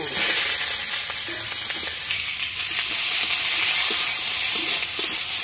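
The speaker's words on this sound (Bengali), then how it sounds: "এবার ঝোলের জন্য একটু জিরে আর একটু শুকনো লঙ্কা দিলাম" Cumin seeds and dried red chillies fry in hot oil in a village-style chicken curry pan, giving a loud, steady sizzle with faint crackles that continues without a break for several seconds, and no talk.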